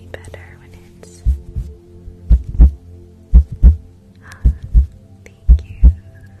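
Close, amplified heartbeat in an ASMR live stream, deep paired thumps repeating steadily at a slow pulse, with soft whispered talk drifting over the beats.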